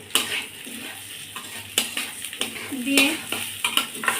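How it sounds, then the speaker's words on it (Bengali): Khichuri ingredients with salt and turmeric powder being stirred and lightly fried in a pot, giving repeated scraping and clinking utensil strokes over a faint sizzle, fairly close and with no talk. "সুন্দর করে একটু নেড়ে চেড়ে হালকা একটু ভাজা ভাজা করে দেবো"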